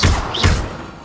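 The Incendio fire spell is cast in Hogwarts Legacy, with two heavy, booming thuds close together, the second one trailing off into a fading rumble.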